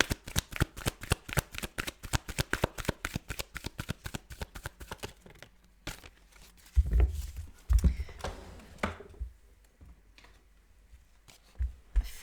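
Tarot cards riffle-shuffled in a fast, crisp run of close flutters for about six seconds, then a few soft single cards drawn and slapped down amid quiet handling thumps.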